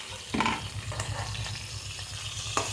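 Hilsa fish paturi wrapped in leaf frying in a pan, a steady, close crackling sizzle with occasional sharper pops and a few utensil clicks, no voices.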